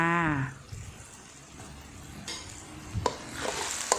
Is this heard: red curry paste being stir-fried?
yes